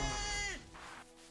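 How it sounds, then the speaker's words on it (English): Goats in a video game let out a sheep-like bleat, one loud, sustained, wavering call that drops away at the end, followed by quiet background. "Why do they sound like sheep?"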